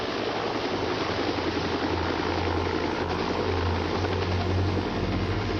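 A medical helicopter lifts off to carry an injured child to the hospital, its rotor and engine making a steady, loud, broadband roar with a low droning hum that holds constant throughout.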